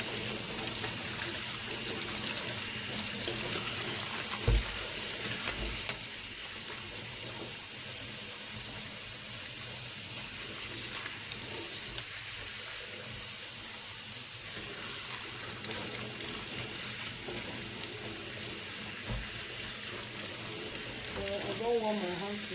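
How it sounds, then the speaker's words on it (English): Tap water runs steadily over a pineapple being washed, a continuous broad rushing hiss that stays level for over twenty seconds, with a couple of faint knocks. "we're going to be washing this pineapple, so we have to wash it proper."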